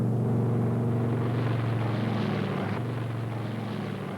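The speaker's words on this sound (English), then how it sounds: "the Lightning accelerated down the runway into the wind, lifted off" A P-38 Lightning, a twin-engine WWII fighter, accelerates down a runway for takeoff with a loud, steady propeller drone that eases slightly toward the end.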